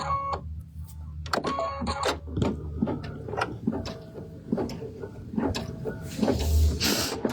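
Embroidery machine sewing a placement stitch in pink thread for a heart, a rapid mechanical ticking and whirring of the needle that keeps a steady rhythm throughout, close and moderately loud, with no talk.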